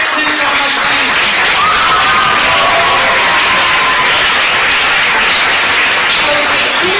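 Loud, sustained applause and cheering from a large audience at a university welcome for the incoming class, dense and continuous with no breaks.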